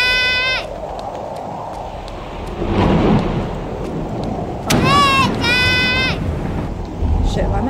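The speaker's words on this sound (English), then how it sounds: "Shit, why am I getting scared by the thunder?" Low, rolling thunder rumbles twice in the horror game Chilla's Art: The Kidnap, swelling and fading among other game sounds and a wavering, voice-like cry.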